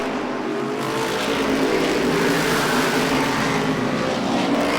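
Modified race cars roar around the oval at Lee USA Speedway, a dense continuous engine drone from a pack of cars that swells slightly midway, loud and sustained without a break.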